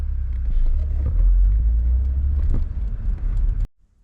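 A six-speed manual car rolls slowly near idle, giving a loud low engine rumble with faint rattles inside the cabin before the sound cuts off abruptly near the end.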